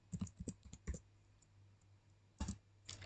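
Keys clack in quick bursts of typing on a computer keyboard while C# code is entered, a flurry of close taps at the start, a pause, then a few more short bursts.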